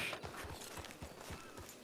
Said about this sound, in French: Oui, le cheval.